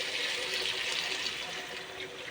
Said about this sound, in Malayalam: നമ്മളിതിലേക്ക് വെള്ളം ഒഴിച്ച് കൊടുക്കുകയാണ്.